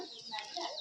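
A chicken clucks briefly in a short, nasal burst, fairly close and soft.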